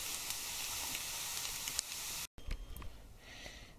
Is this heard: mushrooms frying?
yes